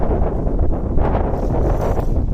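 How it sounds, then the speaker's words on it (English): Steady wind buffeting the microphone beside bee hives at an apiary, a continuous loud rumbling roar with no talking. "And then we get some wind here"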